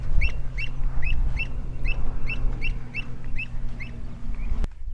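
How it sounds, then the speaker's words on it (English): A bird calls repeatedly near the beach by the pine forest at Wells and Holkham on the Norfolk coast, with about ten short, evenly spaced chirps over steady low wind or surf rumble. "You can hear that bird."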